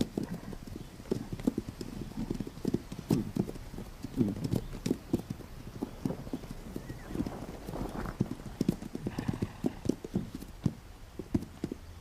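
Wild horses in the Pryor Mountains move with scattered clip-clop hoofbeats, uneven and fairly close, over a quiet outdoor backdrop with only faint voices.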